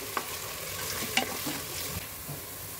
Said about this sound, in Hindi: तो हम इसमें डालेंगे 4 डल्ली प्याज, प्याज को लाइट ब्राउन करेंगे।